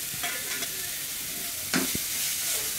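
Ground spice paste for ribbon fish kurma sautés in a pan, hissing steadily with brief scraping stirs and a sharp clack of a spoon against the pan midway.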